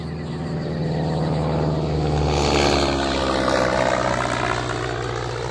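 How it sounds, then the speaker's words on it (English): A propeller plane flying over dense rainforest, a steady loud droning rumble with a slowly shifting pitch throughout, no voices. "The plane had to fly too high, and the forest was too dense."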